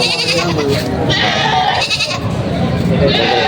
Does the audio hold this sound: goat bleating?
yes